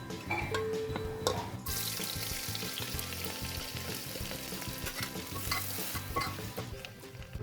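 Two medium onions hit hot oil with cloves, fennel and kasuri methi for beetroot rice bath, a sudden surge of sizzling that settles into a steady hiss under scattered stirring clinks.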